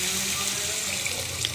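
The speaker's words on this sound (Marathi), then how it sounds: "त्यामध्ये आता आपण पाणी सोडूया।" Water poured steadily into a cooking pot of fenugreek and gram-flour (besan) curry, Nagpur style, a close, continuous rushing stream with no voices.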